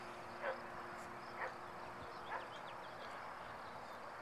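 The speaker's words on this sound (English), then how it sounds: "We have a dog barking at us, I'm sure." A dog barks three times in the distance, evenly spaced and faint, over a quiet outdoor hum of insects on a hillside overlooking a small Colorado town.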